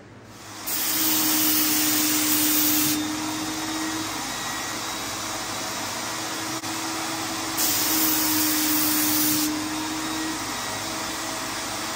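An Apollo Precision 6 spray gun sprays high solids primer in a steady, loud, close hiss with two stronger spray passes, separated by a slightly quieter stretch.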